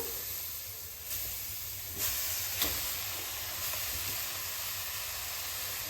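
Grated amla sizzles in a hot heavy-bottomed kadhai, a steady broad hiss held evenly throughout with a few brief louder crackles, close and alone with no talking.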